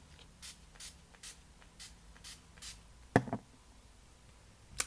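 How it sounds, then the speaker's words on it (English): Makeup setting spray misted onto a face, six soft evenly spaced spritzes in a row, fairly close and quiet, then a couple of light handling taps. "Some setting spray."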